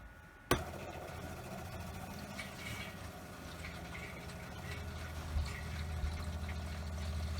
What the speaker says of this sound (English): You can hear the water heater filling.